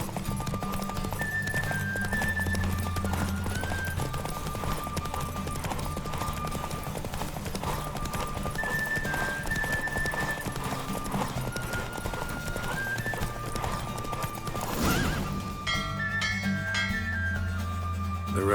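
Hooves clip-clop rapidly as a horse gallops in a race in The Witcher 3 video game, a steady drumming rhythm under game music, with whinnies and a sharp sound effect near the end.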